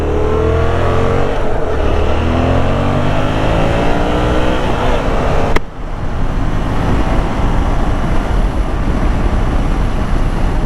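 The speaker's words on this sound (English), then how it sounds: "55 miles an hour, cruising in 4th gear, not even halfway up the rev range" A 2017 Yamaha FZ-07 motorcycle cruising in 4th gear at highway speed, its engine note droning steadily with loud continuous wind and road roar, a brief sharp bump midway, no talk.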